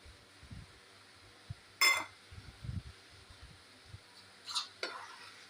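A spoon stirs flour into hot boiled water in a pot, making soft, sporadic scraping and thudding sounds with a couple of brief clinks against the vessel. The sounds are quiet and close, with no talking.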